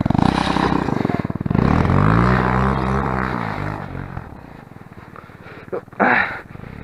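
A quad bike races past through snow in a winter village, its engine buzzing loudly up close before fading into the distance, with people speaking nearby as it goes.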